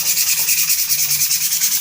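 Rhythmic scratchy rubbing of sandpaper on a bamboo flute, quick even back-and-forth strokes, loud and close.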